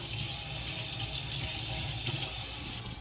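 Water runs steadily from a tap into a kitchen sink while buttery utensils are rinsed, a close, continuous rushing splash with no talk.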